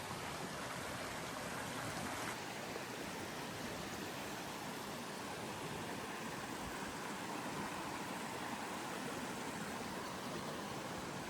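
Water in a stream flows in a steady, soft rushing wash that stays even throughout, faint and with no voices.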